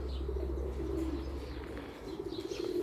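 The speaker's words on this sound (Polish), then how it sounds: "Pocztowe, zobaczcie jakie pocztowe." Homing pigeons at their loft give low, steady cooing that runs through the whole stretch, with a faint rustle of wings and soft chirps on top.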